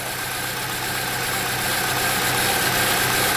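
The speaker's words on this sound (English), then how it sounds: "I'm starting to hear the vehicle run better" A Saab 9-3T with a fault of intermittent rough running and injectors staying on idles close by in a steady, loud, even drone that sounds smooth and consistent, with no one talking.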